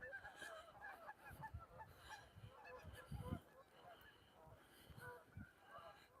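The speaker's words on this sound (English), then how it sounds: "Geese everywhere." Geese honk repeatedly around a city lake on a snowy October walk in Regina, their calls overlapping at moderate distance with a background murmur that may include faint speech.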